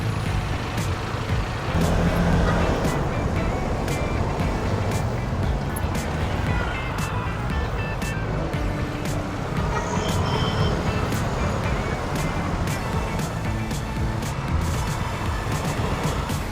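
Heavy road traffic surrounds a moving Vespa scooter: dense, loud, continuous roar of engines and wind, with a truck's air brake hiss and rumbling vehicles close by, a voice faintly present in the mix.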